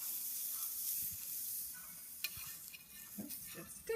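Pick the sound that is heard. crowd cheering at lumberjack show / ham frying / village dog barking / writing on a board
ham frying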